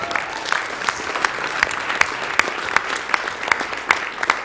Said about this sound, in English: you guys are already applauding